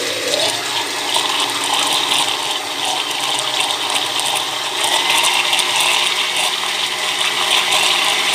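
A blender purées a homemade pizza sauce with salt added. The motor whirs and churns steadily and loudly from start to finish, with no talking.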